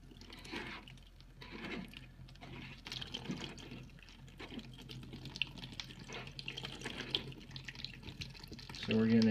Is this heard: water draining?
yes